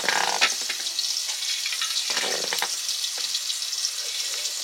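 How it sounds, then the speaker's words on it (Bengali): Potatoes frying in oil in a home kitchen pan, a steady bright sizzle with occasional stirring scrapes and light clatter, close and continuous without any talk. "আলুগুলো ভাজা হয়ে গেছে।"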